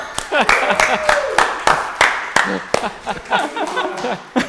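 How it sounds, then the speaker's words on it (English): Several people clap at a tabletop wargaming table, sharp claps landing in a loose rhythm about twice a second, mixed with laughter and talk. "Even I have to clap."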